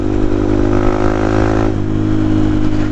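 Motorcycle engine running steadily and loud throughout, with a drop in engine pitch partway through like an easing throttle or gear change.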